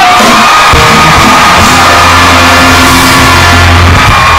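A studio audience at a Thai variety show claps and cheers loudly for a special performance. The roar of a dense crowd is steady and close, with whoops rising over sustained tones underneath.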